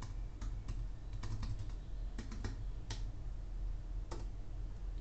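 A password is typed on a computer keyboard, scattered quiet key clicks in irregular bursts over a low steady room hum, no talking.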